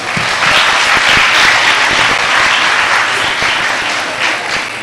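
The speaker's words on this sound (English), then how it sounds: "Give yourselves a round of applause." A crowd applauds at a global youth network convening, a dense, steady wash of clapping that holds at full strength from start to finish, with no voices over it.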